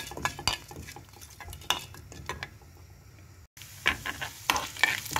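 Ginger and spices sautéed in a pan for temple-style ven pongal, with rapid spatula scrapes and clicks over a soft sizzle, close up, briefly cutting out before the stirring resumes.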